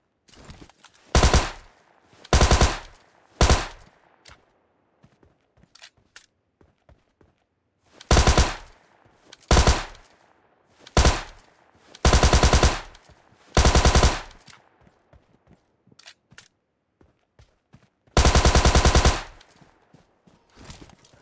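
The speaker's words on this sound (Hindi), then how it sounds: "तो मैं थोड़ा प्री फायर देता हूँ।" Automatic gunfire while pre-firing at an enemy in PUBG Lite, loud bursts of rapid shots repeating in separate volleys with short pauses between, one longer burst near the end.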